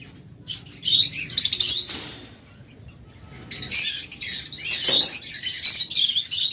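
Caged lovebirds at a bird market chirp in loud, dense bursts of high twittering, close by, with a short quieter gap between flurries and some faint rustling underneath.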